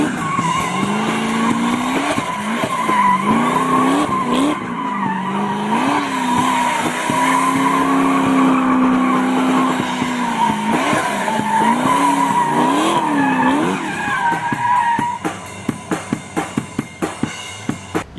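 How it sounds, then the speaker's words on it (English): A V8 car does a loud, sustained tire-smoking burnout, with wavering tire squeal over a revving engine, then sharp rapid popping as it winds down near the end. "Yeah, tire smoking machine, that one is."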